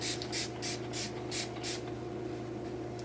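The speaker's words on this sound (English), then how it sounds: "just mist my face with the Josh Rosebrook Hydrating Accelerator Mist" Five quick hissing spritzes from a hydrating facial mist spray bottle, fired in a steady rhythm close by, followed by a low background hum.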